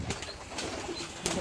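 Pigeons kept for flying sport in a home loft give faint, soft coos and brief rustles and flaps, heard quietly with some background noise.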